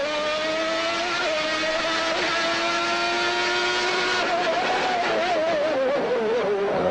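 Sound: Formula One car on a flying qualifying lap

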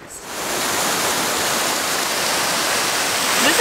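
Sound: small waterfall at Skipton Castle, Yorkshire

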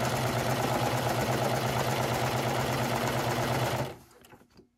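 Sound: serger sewing the fly piece of pants

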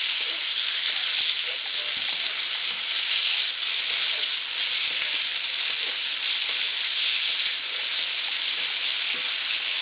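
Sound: spaghetti being stirred in a pan

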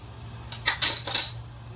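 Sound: cinnamon, cloves, star anise and ghee added to oil in pan

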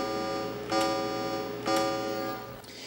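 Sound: envelope tone from Tandy 1000 SX sound chip

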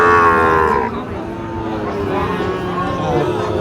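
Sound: cattle mooing at a cattle market

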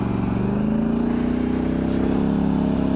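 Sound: Polaris Sportsman 1000 XP High Lifter ATV engine, loud

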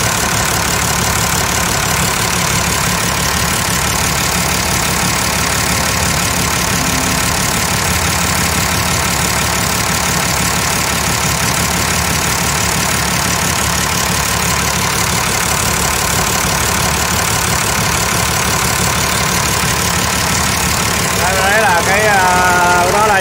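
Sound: 105 hp six-cylinder tractor engine idling

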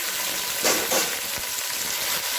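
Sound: mutton frying in pan

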